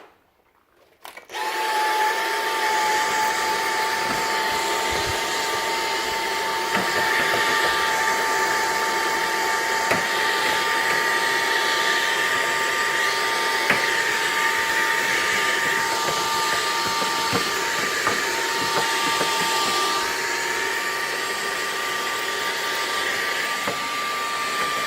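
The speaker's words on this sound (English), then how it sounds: "Clean it, vacuum it." A vacuum cleaner runs steadily and loudly for the whole stretch after a brief start, cleaning dust off a PlayStation 3 heatsink during a red-light-of-death repair, with a constant whine and no talking.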